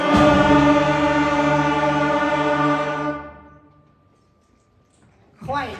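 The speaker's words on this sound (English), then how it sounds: "patiently worked with the band until they could all produce their very first note." A school band holds its first note together, steady and full, then it fades out, followed by a brief sound at the end.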